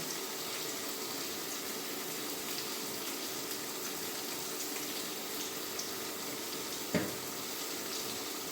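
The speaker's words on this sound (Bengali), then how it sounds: "পেঁয়াজগুলি ভাজা হয়েছে" Onions sizzle steadily in a hot pan while a small river-fish dish is cooked, a continuous crackling hiss with a single sharp clink near the end and no talking.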